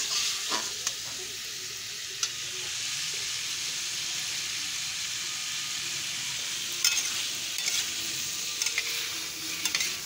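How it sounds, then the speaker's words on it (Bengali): Kuche fish (eel) is stir-fried in a pan, giving a steady, close sizzle and frying hiss with occasional scrapes and clinks of stirring throughout. "তো কুচে মাছটা দিয়ে দিয়েছি। এবার এটাকে ভালো করে কষাতে হবে।"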